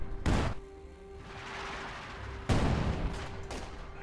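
Artillery barrage in Company of Heroes 2 with Soviet and OKW forces, two loud close blasts a couple of seconds apart, each trailing into rumbling debris, over a faint steady hum.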